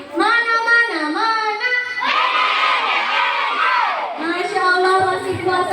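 Elementary schoolchildren at a Ramadan school program shout together loudly and enthusiastically, a sustained chorus of young voices in several rising bursts, close and dominating throughout.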